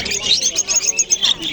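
Birds at a small-bird market in Andijon chirp continuously in a dense, bright chorus of rapid tweets, with a vendor talking nearby.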